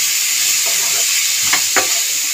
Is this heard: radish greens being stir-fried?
yes